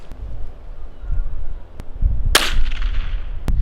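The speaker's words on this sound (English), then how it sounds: "we're just going to shoot the Winchester model 190. It's an old 22 semi-auto." A single sharp crack from a Winchester Model 190 .22 semi-auto rifle firing .22 short, loud and close with a brief ringing tail, standing out against faint background noise and a few small clicks.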